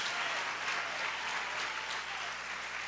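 Church congregation applauding during a sermon, a steady crowd of hands clapping together, moderately loud and continuous over a low background hum.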